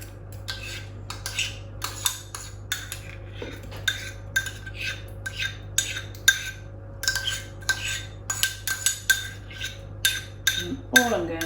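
A utensil mixes spiced pumpkin muffin batter in a jug, giving repeated clinking and scraping strokes in an uneven rhythm over a low steady hum.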